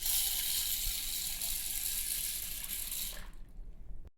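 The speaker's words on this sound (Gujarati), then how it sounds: "આપણે એક તપેલીમાં ઘઉં અને જાર લઈશું, એને આપણે હવે પાણી રેડીને પલાળી દઈશું" Water pouring into a cooking pot over wheat and sorghum to soak them, a steady broad rushing splash for about three seconds that then stops abruptly, leaving near quiet.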